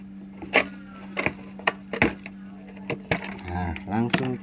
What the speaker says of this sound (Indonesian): ini dicongkel pakai obeng min